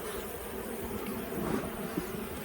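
Honeybees buzz steadily around an open hive on a farm, a dense continuous drone close by with no voices.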